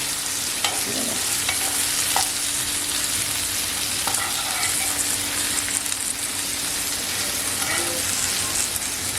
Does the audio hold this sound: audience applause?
no